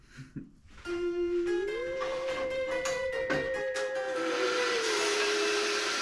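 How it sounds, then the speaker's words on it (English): A bandsaw cuts through a wooden pumpkin stem made from scrap 4x4 wood. The motor spins up to a loud, steady whine and holds it, with a rising hiss of the blade biting the wood, close by and with no voices. "I'm just gonna take the bandsaw, chop it down some arbitrary length"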